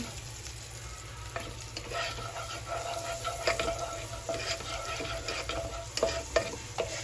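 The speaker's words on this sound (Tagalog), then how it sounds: "At lalagyan na natin ng butter. Yan, tunawin lang natin." Butter melting and being stirred in a frying pan, with a soft constant sizzle under repeated light scraping strokes of a utensil against the pan.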